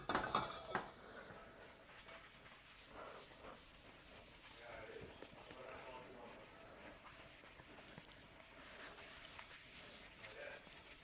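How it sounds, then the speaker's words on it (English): A wok is wiped and rubbed with peanut oil, giving a faint, continuous scrubbing and rubbing with a few light metallic knocks at the start, close and quiet, without talk. "I'm gonna take some of this peanut oil here. Give my wok a nice"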